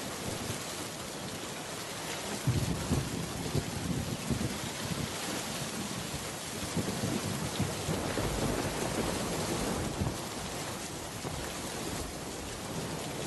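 A cartoon thunderstorm: heavy rain roars in a constant wash while deep thunder rumbles rise and roll beneath it, with no voices.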